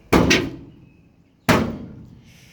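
A pinching interior door is shut twice, each closing a sharp wooden bang with a brief rattle and a short decaying tail, the two thuds about 1.4 seconds apart, close by and without talk.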